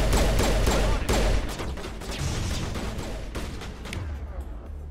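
Gunfire in the game Mass Effect: loud rapid bursts of shots at the start, then scattered sharper cracks over a lingering rumble.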